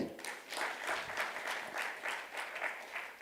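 Steady, full applause from an audience at a university launch event fills the room throughout, with dense overlapping claps rising and falling slightly in waves.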